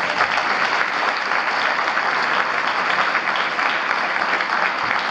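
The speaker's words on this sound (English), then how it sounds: "A big round of applause to our dear guests." Sustained applause from an audience greeting guests at a Serbian statehood day and Saint Sava academy celebration, a thick, even roar of many hands clapping that holds steady from start to finish.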